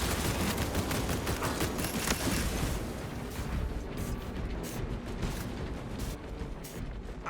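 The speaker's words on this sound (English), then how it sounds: "My servo harness gun will handle this." Rapid gunfire from a servo harness gun in a Deathwatch Techmarine game build, a dense continuous burst of shots with mechanical clatter throughout, loud at first and easing slightly toward the end, with no talk.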